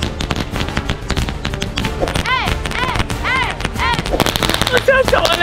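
A string of 5,000 firecrackers going off in a long, loud, unbroken crackle of rapid bangs, close and dense throughout, with shouting voices and whistling squeals mixed in.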